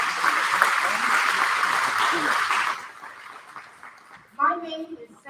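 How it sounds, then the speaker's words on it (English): Audience applause at an alumni homecoming program fills the room for nearly three seconds, steady and dense, then thins into scattered claps before a voice begins speaking near the end. "Please give yourself a round of applause."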